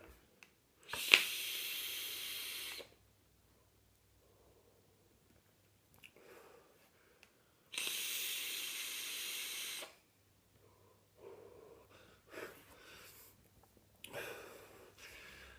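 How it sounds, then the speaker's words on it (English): Two long hissing vapour exhales from an e-cigarette running Snake Oil e-liquid at 34 watts, each lasting about two seconds and separated by quiet, followed by softer breathy puffs and small clicks. "This is the 6 mg strength of nicotine, 34 watts, and let's give it a vape."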